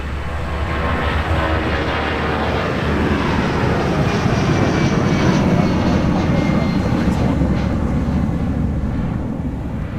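A Sun Country jet thunders down runway 30 left at Minneapolis on a muggy winter day, its engines a loud, continuous roar that swells slightly mid-run before easing off.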